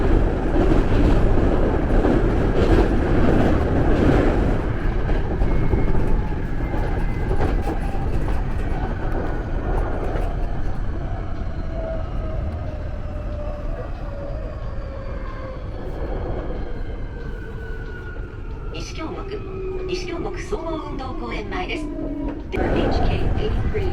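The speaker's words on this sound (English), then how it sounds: "here is the train ride." Japanese commuter train ride near Kyoto, a steady loud rumble of wheels and carriage noise throughout, with rising and falling motor whine and faint squeals, brief mechanical clatter near the end.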